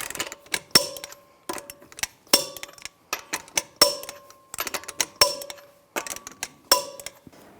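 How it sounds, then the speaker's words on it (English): Lug nuts are tightened on a Buick Enclave wheel with a torque wrench in a cross pattern, giving a series of sharp metallic clicks and clanks in short bursts close by, with pauses between. "Now I'm going to tighten the lug nuts to 140 foot-pounds in a cross pattern to tighten the wheel down evenly."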